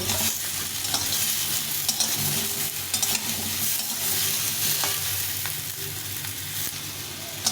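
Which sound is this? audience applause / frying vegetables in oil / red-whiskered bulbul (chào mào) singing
frying vegetables in oil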